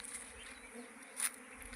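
A honeybee swarm buzzes steadily around wooden hive boxes, a dense continuous drone close by with a brief louder swell as bees pass near.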